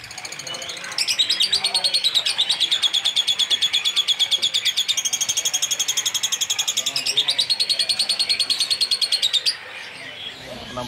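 Blue series lovebirds at a bird kiosk keep up rapid, high-pitched chirping in a continuous rhythmic stream for most of the clip, loud and close, before easing off near the end.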